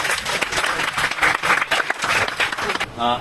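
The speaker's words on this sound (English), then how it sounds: "Now you can applaud." Audience applauding at a university event, a sustained burst of many hands clapping that swells and ebbs before fading, with a voice starting at the very end.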